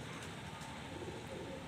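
Low, soft cooing from a kaal noky breed pigeon in its courting phase, faint and muffled against a noisy background with no clear separate calls.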